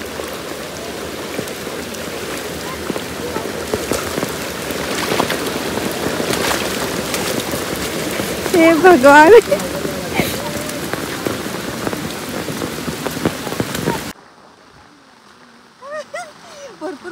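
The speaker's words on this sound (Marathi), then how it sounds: "भरपूर पाऊस आलाय जोरात यार" Heavy rain pours loudly in a Kokan village in Ratnagiri, a dense, close patter drumming on surfaces while people speak and exclaim under it. It then cuts to quieter background with a few voices.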